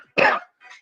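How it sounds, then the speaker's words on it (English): A single sharp cough, close and clear, followed by a brief faint second throat sound. "cough."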